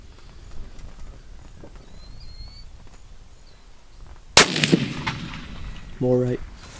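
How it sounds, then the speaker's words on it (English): A single loud, close rifle gunshot rings out while sighting in for deer season, its sharp crack followed by a decaying outdoor echo over quiet background hiss. "I'd shoot another one before you adjust."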